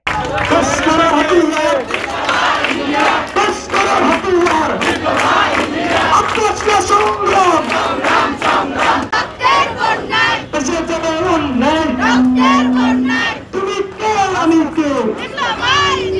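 Diploma students of Naogaon Polytechnic Institute chant loudly in rhythmic unison during a protest march, a close, dense crowd of voices with call-and-response shouting and background chatter that carries on throughout.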